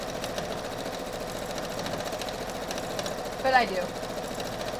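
A sewing machine runs steadily as it stitches over pins, its fast mechanical chatter continuous and close, while a person speaks briefly over it.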